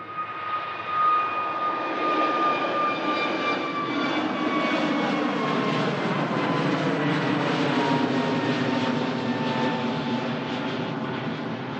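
Jet2 Boeing 757 departing Manchester Airport, a loud sustained jet engine roar with whining tones holding steady across the whole stretch.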